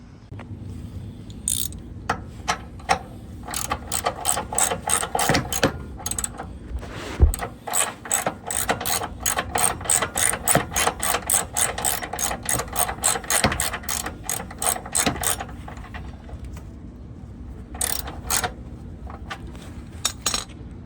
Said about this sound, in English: I'm going to feed these bolts through and tighten them up.